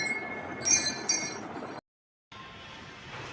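Metal wind chime hanging from a tree outside a home gate, tinkling in a few bright, ringing clinks over a steady outdoor hiss, with a brief silent gap before the ambience resumes.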